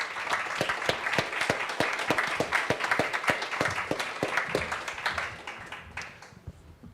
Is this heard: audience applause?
yes